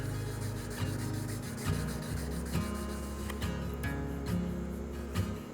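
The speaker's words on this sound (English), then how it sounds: "Now back to our 400 grit sandpaper. Turn our attention to the face, just a little bit on here." A steel card scraper's face rubbed lightly on 400 grit sandpaper: repeated close scratchy strokes, each ending in a soft bump, continuous and fairly loud, with no voices.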